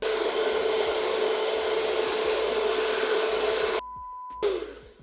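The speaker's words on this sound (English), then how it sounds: "We might have to get that hair dryer" A hair dryer runs loud and steady at close range with a constant whine, then cuts off abruptly and restarts briefly before winding down.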